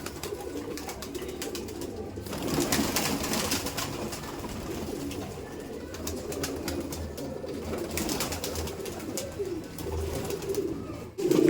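Pigeons of the Kaldom breed cooing repeatedly in soft, low, throaty calls, fairly close, mixed with rustling and background noise; no talk.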